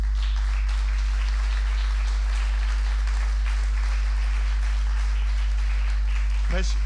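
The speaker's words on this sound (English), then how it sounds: "I order you to applaud him" Audience applause at a Bangkok book talk for Very Bangkok, a steady spread of clapping over a low mains hum, ending with a brief voice.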